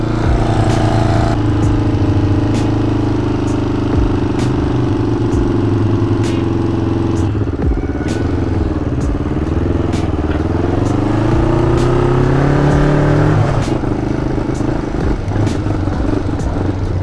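A Kawasaki GPZ500S motorcycle engine idling too high, a loud steady close drone that wavers and rises slightly in pitch partway through, running continuously without speech.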